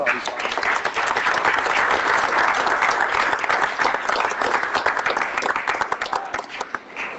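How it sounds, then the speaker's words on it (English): Warm applause rises from the audience at a city council meeting, a close, continuous crackle of many clapping hands that stays strong before thinning out toward the end. "So how about a round of applause?"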